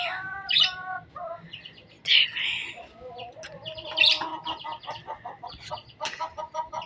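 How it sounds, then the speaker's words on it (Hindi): Shrill, repeated parrot screeches and chirps, several overlapping calls in quick bursts, fairly close, with a low background hum. "मेरे तोते चीख रहे हैं, इनकी आवाज़ें सुने"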